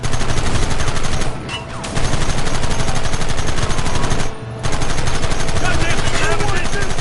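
Dense rapid gunfire from Red Dead Redemption, loud and nearly continuous for about seven seconds, with two short lulls and shouting voices over the shooting.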